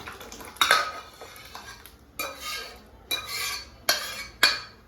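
Cooked dal poured into a pan for khichdi, with several soft wet splashes and metallic scrapes of a utensil against the pot, heard close up with no talking.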